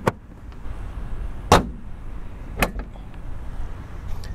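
The front trunk of a 2006 Porsche Boxster S (987) is released by a switch: a few sharp, close latch clicks and thunks spaced over several seconds against a quiet background.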